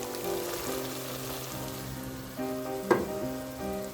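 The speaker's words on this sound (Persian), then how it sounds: "بعد اینکه رب با همراه گوشت حدود 3 دقیقه تفت دادم" Tomato paste and meat frying together in a pot, a steady dense sizzle with soft stirring clatter and one brief louder clack near the end.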